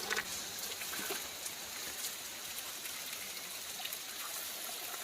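Mountain spring water flows steadily at a hillside tap on a Himalayan trek, a close, even splashing trickle with no talking.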